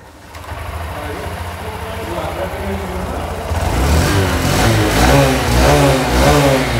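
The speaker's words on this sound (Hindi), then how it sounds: "बाइक बिल्कुल अच्छी तरीके से स्टार्ट हो रही है।" A Honda Shine 125 BS6 motorcycle engine fires up on the self-starter and settles into a steady idle, then revs up louder and holds a throbbing, raised engine note. Voices can be heard nearby.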